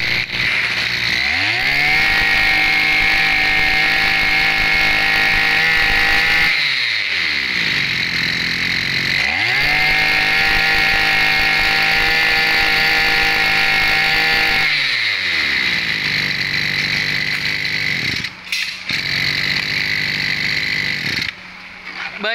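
A STIHL chainsaw engine runs loud and close, revving up and settling into a steady high drone in repeated cycles, with brief dips between runs.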